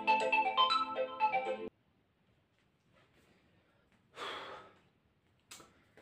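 A phone ringtone plays a short, bright melodic phrase up close, then cuts off abruptly, leaving near silence broken by a few brief breathy sounds.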